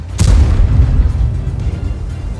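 A Tank cannon shot in World of Tanks, from the Object 703 II, fires with a single loud, deep boom. Its heavy rumbling low-end tail rolls on for a couple of seconds.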